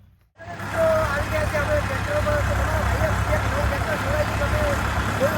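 A tractor engine runs out in a farm field, a low, steady drone with a thin whining tone riding above it, heard close throughout while people talk over it.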